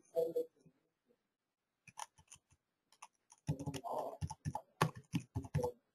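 Quick bursts of clicky keystrokes on a computer keyboard while an email address is typed in, with short pauses between runs and one brief voice at the start.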